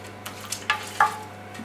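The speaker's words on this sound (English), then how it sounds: "So now mix all this up" Stirring rice and liquid in a pot, with a few short scrapes and clinks of the spoon against the pan over a faint steady simmer.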